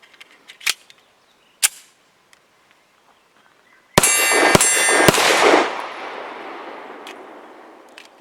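Colt Competition 9mm 1911 pistol fired with lead-free rounds: a couple of isolated sharp cracks, then a rapid string of loud, close shots with ringing metallic echoes fading out.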